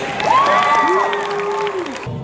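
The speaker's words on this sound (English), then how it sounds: "Give her a big round of applause" An audience at a Max Major hypnosis show claps and cheers for a volunteer leaving the stage, with loud whoops and long shouted calls over the applause before it cuts off abruptly.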